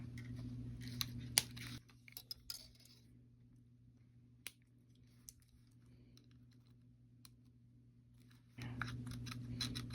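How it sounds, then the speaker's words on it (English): Wire cutters snip off a wire braid in sharp, isolated clicks. A few come early and a single clear snap follows midway, all close and dry, with light handling noise and a steady hum underneath. "I'm going to snip the braid off."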